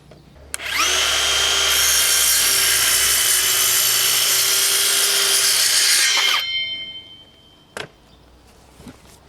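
A DeWalt DCS512 cordless circular saw spins up and cuts steadily through wood at full depth for about five seconds with a loud whine, then winds down, followed by a couple of faint clicks.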